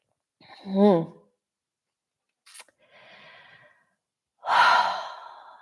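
Slow, deep breaths during a guided yoga session for tight hips: a long voiced sigh-like exhale, a brief click, a soft airy inhale, then a loud, close, full exhale, each separated by quiet.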